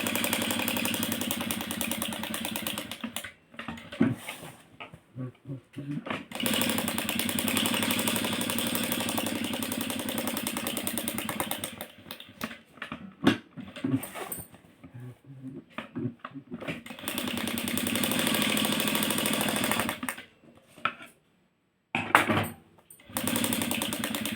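A power sewing machine runs steadily as someone stitches, its motor humming in long continuous stretches broken by several short pauses and a longer stop near the end, loud and close with no talk.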